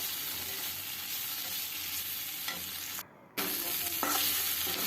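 Coconut paste frying with kochur loti (taro stolons) for a Bengali korma gives a steady, dense sizzle with soft stirring scrapes, briefly dropping away for a moment before resuming at full strength.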